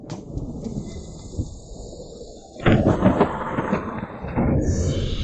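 Thunder rumbles loud and close, building into a heavy sustained roll after a quieter start, with no speech over it.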